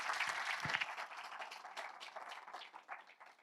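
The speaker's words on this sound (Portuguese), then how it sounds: "Um forte aplauso para Pedro Fonseca." A conference audience at WordCamp Portugal 2026 breaks into sustained applause. Dense clapping from many hands fills the whole stretch evenly, with no voices over it.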